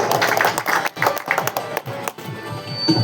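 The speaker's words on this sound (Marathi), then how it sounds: "जोरदार टाळ्या जरा बजाव आहे" Audience clapping along at a live double-bari bhajan performance in Konkan, a dense patter of hands with the crowd noisy around it.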